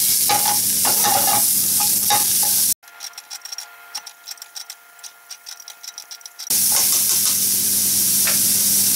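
Turnip leaf stems sizzling in hot oil in a pan, a bright continuous crackle with stirring clatter at the start and end, broken by a quieter middle stretch of scattered ticks and clicks.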